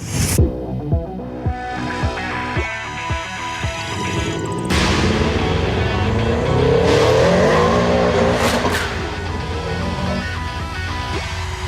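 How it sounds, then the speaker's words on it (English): A turbocharged Subaru Legacy engine idling with a lumpy throb, then revving up loudly with turbo whine and a quick hissing blow-off valve release, close by. "You could hear a little bit of blow-off valve in there. You could hear some turbo noises."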